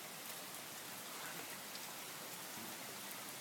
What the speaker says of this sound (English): now you guys can see the pouring rain